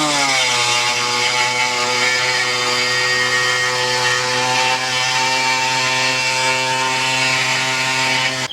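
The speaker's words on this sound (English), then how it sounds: "This is a pneumatic reciprocating saw." A pneumatic reciprocating saw cuts through an RV holding tank front panel, a loud, close, steady buzzing rasp that runs unbroken the whole way with no talking.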